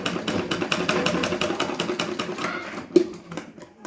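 Sewing machine stitching the sleeve fabric of a blouse: a rapid, steady mechanical rattle of needle strokes, close and moderately loud, pausing briefly near the end before resuming.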